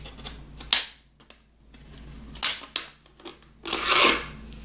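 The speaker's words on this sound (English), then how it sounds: "Now your scissors should be able to go through." Scissors cutting through a plastic water bottle, producing sharp crinkling snips and crunches in irregular bursts, close up and without speech.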